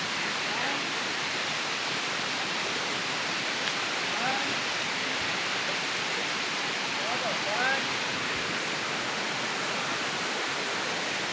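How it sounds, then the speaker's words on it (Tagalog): Water of a small, shallow stream rushes steadily over rocks as someone wades through it, a continuous close broadband splashing wash with a few brief bright trickles and no pauses. "Ayan dinadaanan namin munting sapa."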